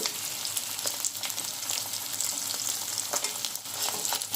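Dry fish fry in oil for a dried fish and white brinjal curry. A close, steady sizzle carries scattered crackles and pops, with no talking.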